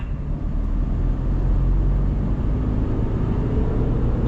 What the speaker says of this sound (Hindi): खाली रोड पे ले जाके इसको एक बार हाई आरपीएम पे चला के देखता हूँ